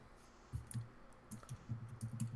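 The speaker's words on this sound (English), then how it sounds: "I heard the tippy tap of your keyboard" Quiet, scattered keyboard clicks during a Nancy Drew game session, a few soft taps in short irregular bursts with low hum underneath.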